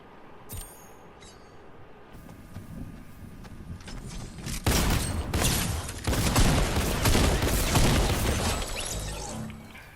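Rapid bursts of gunfire break out during a video game arena match, starting sparse, then swelling into dense, sustained volleys with crashing impacts through the latter half.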